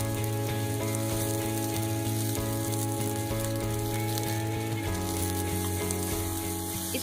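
Flat beans with turmeric and salt fry in a pan for an Odia mustard-gravy dish, giving a steady, close, dense sizzle over a low hum, with no talking.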